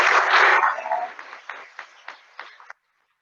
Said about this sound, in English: we're about to get your second round of applause.